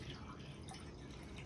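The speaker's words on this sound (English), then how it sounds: "we're gonna be putting spring water into that cup" Spring water from a freshly opened bottle poured into a cup, a soft steady trickle and splash that runs without a break for the whole short stretch.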